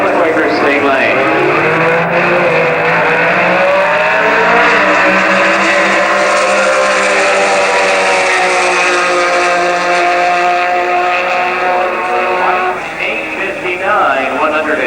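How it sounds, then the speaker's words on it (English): A black front-engine Class C dragster runs down the drag strip at the 1988 NHRA Winternationals in Pomona, its engine a loud, sustained roar with a sweeping pitch as an announcer talks over it. "front engine black dragster, running in Class C dragster down the Quaker State Lane"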